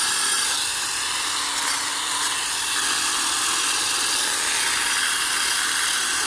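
A 1-inch brush scrubs deep rust from the wheel of a 1963 Cub Cadet garden tractor, giving a loud, steady, harsh abrasive hiss that runs unbroken and close throughout, with no voices.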